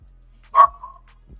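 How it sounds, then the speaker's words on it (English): A small schnauzer gives one short, high yapping bark indoors, close and fairly loud, followed by a faint softer whine-like tail against a quiet background. "That your little schnauzer, man. Yeah, them yapping dogs"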